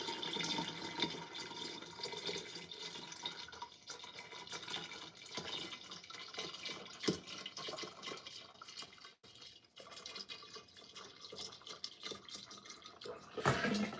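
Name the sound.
punch mixture being poured into a container with water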